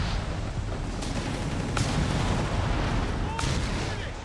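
Battle din from Company of Heroes 3 with grenades going off amid continuous gunfire and artillery-like booms, dense and loud throughout, with a caster's voice partly under the explosions.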